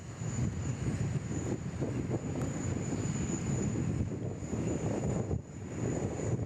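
Airliner landing on runway 34 left at Sydney Airport, a steady broadband rumble of engine noise and wind buffeting that holds throughout at moderate distance, with no voices.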